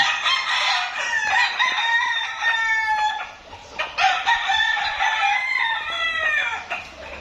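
Several roosters at a gamefowl farm on Mount Banahaw crow loudly and repeatedly, their calls overlapping across the whole stretch, with no talking.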